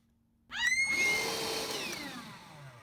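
A vacuum cleaner switches on abruptly after a short silence and runs with a loud, steady whine whose pitch slowly sags, used to suck up swarms of bugs; no one speaks.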